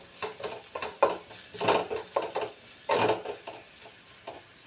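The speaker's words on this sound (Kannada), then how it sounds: "ಈರುಳ್ಳಿ ಸ್ವಲ್ಪ ಕೆಂಪಗಾಗಲಿವು." Onions cooking in oil for gobi manchurian, with repeated stirring and scraping strokes in an uneven rhythm over a low sizzle, fairly close and with no speech.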